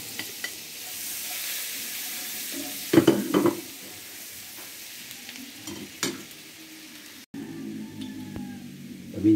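Garlic and butter frying in a pan for buttered garlic bangus, a low steady sizzle with bursts of stirring and utensil scrapes, close and moderately loud, no talking.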